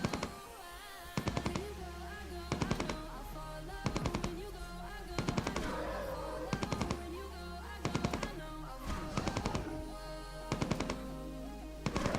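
Gunfire in the video game Entropia Universe: repeated short bursts of rapid shots at regular intervals, crisp and close, over a constant dense background of game music and ambience.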